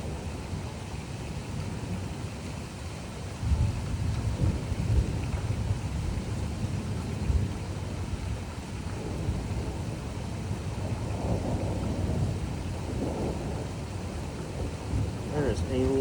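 A severe thunderstorm in Troy, Illinois, with heavy rain pouring steadily, wind gusts and low rumbling thunder rolling in several times across the stretch.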